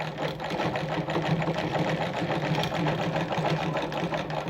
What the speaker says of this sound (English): when I go back to my fabric now and I sew through